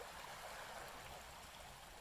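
A creek flowing steadily in a quiet outdoor spot, a faint continuous wash of running water with no voices.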